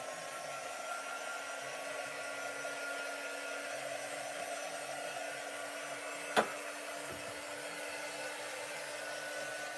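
A hair dryer blows steadily at close range, drying chalk paste on a found-surface craft piece, a constant whooshing hum with one sharp tap partway through and no talking.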